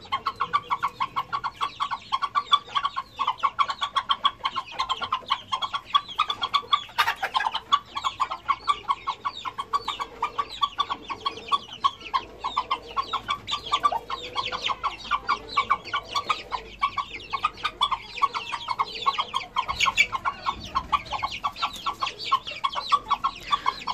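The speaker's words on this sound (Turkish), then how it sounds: "Horoz onu yemek olarak çağırıyor" Zibrit rooster softly clucking to call hens to hazelnuts, a steady rapid chatter of bird sounds with pecking and scratching close by, no talk.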